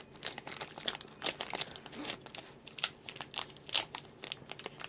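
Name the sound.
opening the foil wrapper of a Pokémon card booster pack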